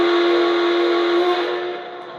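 A model steam locomotive's sound effects, a Lionel 6100 S1 duplex sound set, ring out with a sustained, steady whistle tone that fades slightly toward the end.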